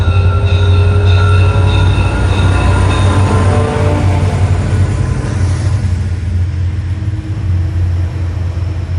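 A train rumbles past close by in Toronto, with a loud, steady low roar, faint wheel squeals fading in and out, and the noise gradually easing off toward the end.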